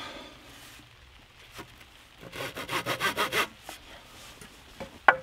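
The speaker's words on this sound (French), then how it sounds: "je prends la scie" A hand saw cuts through wood in a quick series of about eight rhythmic back-and-forth strokes, close up, followed by a sharp knock.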